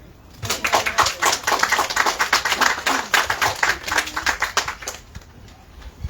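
An audience applauds street musicians at an anthology launch, a steady patter of many hands clapping for several seconds, close and lively, dying down toward the end.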